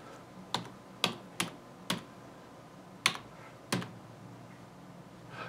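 Keys tapped on a computer keyboard, six separate quiet clicks spread unevenly over a few seconds, close by and with no voices.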